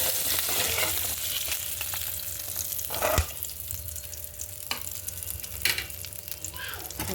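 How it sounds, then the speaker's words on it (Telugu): Fish pieces fry in hot oil with a loud, continuous sizzle, broken by a few sharp clatters and bursts of spatter. "చేప ముక్క 2 పక్కల కాలింది ఫ్రెండ్స్"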